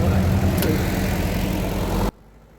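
A steady tractor engine rumble runs loud and close for about two seconds, then cuts off sharply, leaving a quiet low hum, on a goat farm.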